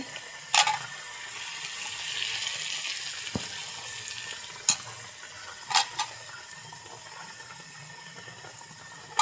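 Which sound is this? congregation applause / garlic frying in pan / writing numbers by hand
garlic frying in pan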